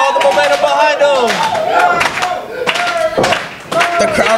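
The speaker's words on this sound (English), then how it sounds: "The crowd rallying behind Turbo now." A wrestling crowd at a PWL show cheers and yells loudly, with scattered clapping and thuds, as voices rise and fall in bursts of excited shouting throughout.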